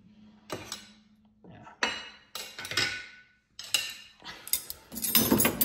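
Spoons and metal cutlery being loaded into a dishwasher basket: a close, loud series of metallic clinks and rattles in several bursts, with brief pauses between handfuls and no talking.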